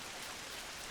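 Rain falls in the video game Final Fantasy XI, a steady soft hiss of pattering drops, faint and continuous with no talk.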